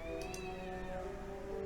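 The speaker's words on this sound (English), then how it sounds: "What are they doing to that cat?" Cat meowing in The Witcher video game, a drawn-out, plaintive wail that rises and falls, fairly faint against a steady ambient background hum with no talking.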